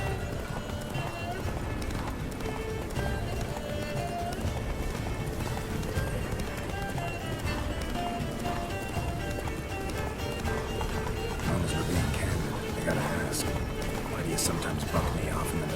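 Horse hooves clip-clop at a steady galloping rhythm in The Witcher 3, with whinnies and game music or ambience mixed throughout, while voices talk over the ride.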